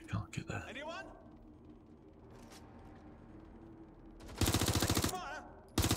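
Watch Dogs Legion gunfire arrives in two loud, dense bursts of rapid automatic shots, one lasting nearly a second and another starting just before the end, with quieter sounds and speech earlier.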